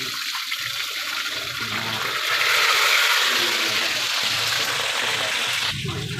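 Tilapia fries in a pan with a loud, close, continuous hissing sizzle that swells briefly around the middle and holds steady to the end.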